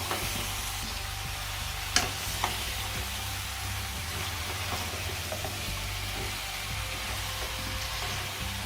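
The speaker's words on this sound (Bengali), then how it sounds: "মিষ্টি কুমড়াগুলো লবণ এবং মশলায় ভালোভাবে নেড়ে মাখিয়ে নিই।" Sweet pumpkin pieces being stirred with salt and spices in a pan for a Bengali hilsa fish dish, a soft constant sizzle with a low hum and an occasional faint knock of the spoon, no talking.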